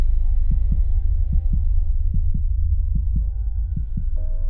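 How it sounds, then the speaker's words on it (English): A low, thudding heartbeat sound effect pulses steadily over a deep droning hum, with soft paired beats repeating at an even pace throughout. "Is that my heartbeat?"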